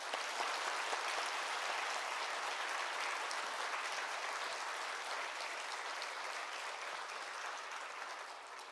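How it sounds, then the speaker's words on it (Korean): Congregation applauding in a church during a Wednesday evening worship service, a steady broadband wash of many hands clapping for about nine seconds, moderately distant and fading slightly toward the end. "뜨거운 박수로 우리 환영합니다"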